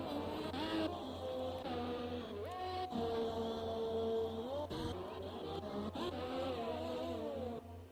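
Formula 1 car engine at full throttle in an F1 racing video game at the Austria circuit, a loud sustained high-pitched whine with rising pitch sweeps as it climbs through gears, continuous for about eight seconds.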